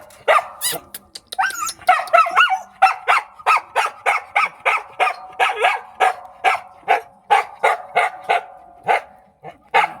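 A dog barks close by in a rapid, steady series of sharp barks that follow a few higher yips and whines at the start.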